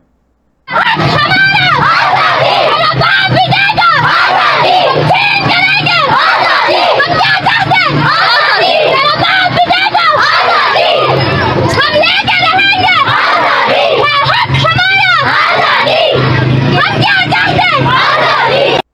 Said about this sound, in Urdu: اب وہی بچیاں آزادی کے نعرے لگا رہی ہیں